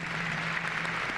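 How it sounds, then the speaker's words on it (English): Applause from an audience at a university honors convocation, a brief steady wash of clapping from many hands in a large hall. "let's give him one more round of applause,"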